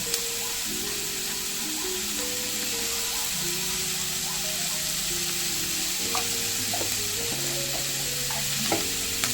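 Vegetables sizzle and fry steadily in a pan, seasoned with salt and chilli powder and smoked as pizza topping, with a continuous close hiss and occasional stirring clinks, plus a faint tonal hum in the background and no talk.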